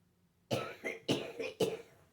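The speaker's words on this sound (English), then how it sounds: "the coughing has started again" Three harsh coughs in close succession, near and fairly loud, with brief pauses between them and no talking.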